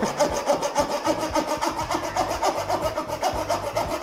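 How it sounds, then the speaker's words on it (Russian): A serrated kitchen knife saws back and forth through a metal hammer, giving a steady, loud, rasping scrape with a continuous rhythmic texture and no talking. "Если вы вдруг хотите попилить молоток, то обычно... Попилите молоток."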